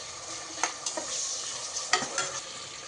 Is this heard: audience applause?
no